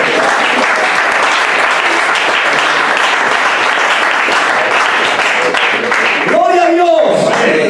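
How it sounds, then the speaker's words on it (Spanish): A church congregation claps loudly and continuously in a dense wash of applause. Near the end a voice rises briefly above the clapping. "Un aplauso al Espíritu Santo."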